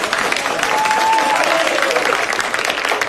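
An audience claps at a psychology talk, a loud and continuous wash of applause under a faint, brief tonal sound, with some voices mixed in.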